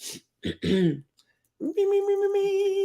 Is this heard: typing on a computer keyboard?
no